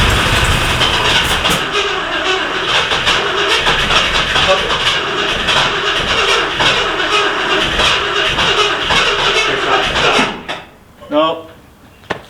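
A 1967 Ford Thunderbird engine cranking loudly and continuously with a rough, rattling churn for about ten seconds, then cutting off, followed by brief voices.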